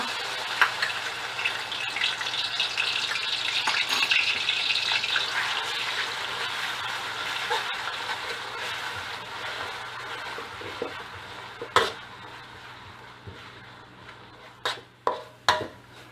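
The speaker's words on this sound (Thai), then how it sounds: "พอน้ำมันร้อนก็นำเครื่องที่เราโขลกลงผัดให้หอมค่ะ" Pounded curry paste with shrimp paste stir-fries in hot oil in a pan over low heat, a steady close sizzle that gradually fades, then a few sharp utensil scrapes and clinks near the end.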